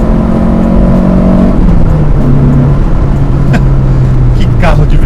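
A Citroën Xsara VTS with a 2.0 engine accelerates hard through its gears, the loud engine note climbing and dropping at each shift, recorded from inside the car while someone talks over it.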